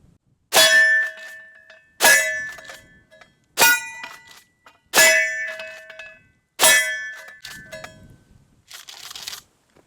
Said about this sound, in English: So right now we're going to be testing some Federal Premium Personal Defense ammo.